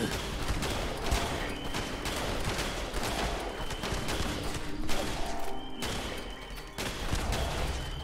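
Rapid, continuous gunfire in the video game Fallout 76, with overlapping shots and bursts, loud and dense throughout with occasional brief dips.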